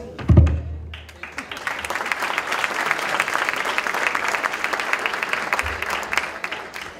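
An audience at a Saudi Night cultural event at Missouri S&T in Rolla claps for several seconds. The applause is steady and moderately loud, with a few low thumps near the start.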